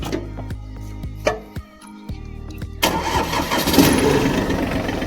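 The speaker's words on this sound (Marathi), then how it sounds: "ट्रॅक्टर बी लगेच सुरू होणार आहे." A farm tractor with a freshly charged battery cranks through a few sharp starter bursts and a pause, then its engine catches and settles into a loud, rough, steady idle close by.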